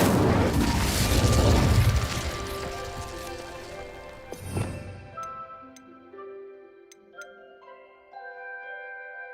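An Incendio fire spell cast in Hogwarts Legacy, a loud roaring whoosh of flame for about two seconds, then a burst that fades out into ringing game music tones and soft ticks.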